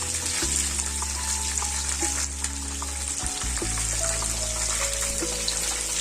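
Food fries in hot oil in a home kitchen, a steady close-up sizzle and crackle with small pops and a faint bubbling, unbroken and with no talking.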